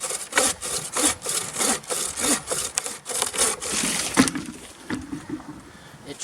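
An antique hand saw rasps through wood in steady back-and-forth strokes, about a dozen rhythmic pulls up close and loud before slowing and fading into a few lighter scrapes.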